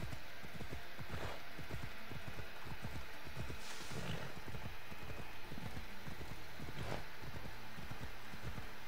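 Horse galloping in the video game Assassin's Creed Odyssey, with a steady rapid clip-clop of hooves running through the whole stretch over a dense, busy ambient background, with no talking.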